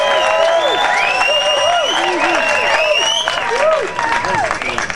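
A crowd at the float awards of the Nimbin MardiGrass parade applauds and cheers, a continuous wash of clapping and voices with a few whistles riding over it.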